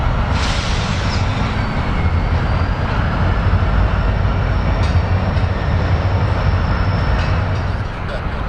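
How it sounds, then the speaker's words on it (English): An AGR freight train led by six-axle EMD locomotives running long hood forward, hauling mostly empty boxcars, rolls across a bridge with a loud, steady rumble and grind that holds throughout. "AGR's nightly train bound for Pensacola rolled across their bridge"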